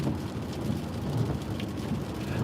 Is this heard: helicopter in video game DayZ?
no